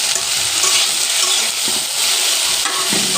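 Bitter gourd and potatoes stirred in a frying pan over a loud, continuous sizzle. Repeated scraping strokes from the spatula sound close by.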